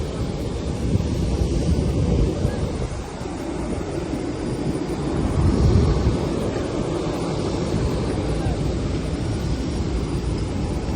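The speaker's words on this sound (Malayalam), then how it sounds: "ഇതാണ് ഞങ്ങൾ പോകുന്ന ഫ്ലൈറ്റ്." An airliner waits at the airport before boarding, with a steady low engine rumble and broadband roar that holds throughout and swells briefly in the middle, heard alone without talk.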